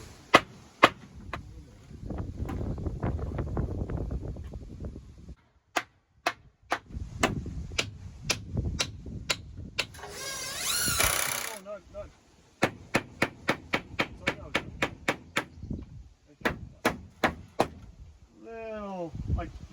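Hammer blows ring out on a wooden pallet cabin under construction, arriving in scattered single strikes and then quick runs of sharp knocks, with people talking nearby between and over the hits.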